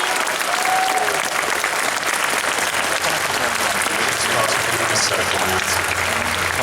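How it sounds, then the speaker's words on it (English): An audience at a convention panel claps steadily to welcome a guest, a dense and fairly close wash of applause lasting several seconds, with some crowd voices mixed in. "Can we have a round of applause welcoming Jillian to the"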